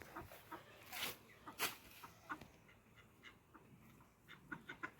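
Ducks and farmyard fowl cluck and quack in short, scattered bursts at moderate distance, with a few louder squawks.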